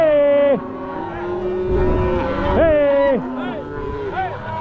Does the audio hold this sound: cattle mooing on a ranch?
yes